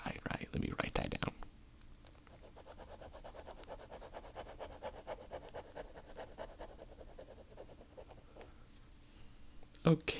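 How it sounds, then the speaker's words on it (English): A pen writes on paper at close range in a soft-spoken ASMR setting, making steady, scratchy strokes that run continuously for several seconds after a brief louder sound at the start. "Let me write that down."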